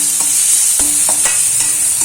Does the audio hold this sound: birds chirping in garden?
no